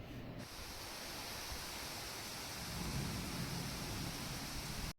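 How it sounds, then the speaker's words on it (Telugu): Heavy rain pours steadily as a dense, constant hiss that swells a little toward the end, with no voices over it. "ఇప్పుడు చాలా వర్షం పడుతుంది"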